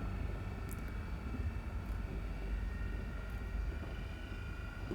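A ship engine in a video game throttles back up to full power, a steady, droning hum with a faint tonal whine, even and fairly quiet throughout.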